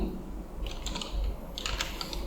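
JavaScript code being typed on a computer keyboard, two short bursts of quick, close key clicks separated by a brief pause, with no talking.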